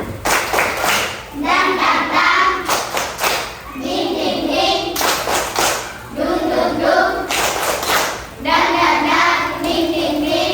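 A group claps together in a repeating rhythmic pattern, bursts of hand claps alternating with short chanted vocal phrases, loud and close.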